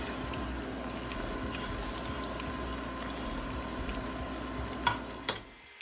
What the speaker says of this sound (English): We're pan frying, which is a shallow fry